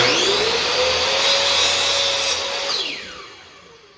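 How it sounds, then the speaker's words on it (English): A laser-guided chop saw cuts through wooden trim in a home woodworking job: a loud, steady whining roar holds for over two seconds, then the motor winds down as the blade spins to a stop. "So I'll come over here to the chop saw, line the laser up to the far point."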